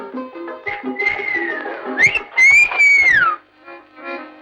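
A person whistles in a comedy film scene: a sustained melodic whistle rising and gliding, with a brief break and then a louder, higher phrase before fading, heard clearly with no talking.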